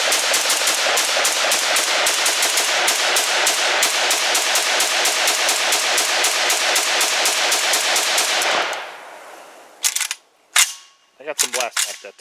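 Rapid, sustained semi-automatic fire from an ATI Galeo rifle, a Galil-style gun, rings out loud and close in a dense string of shots for about nine seconds, then stops, leaving a few scattered clanks and handling noises.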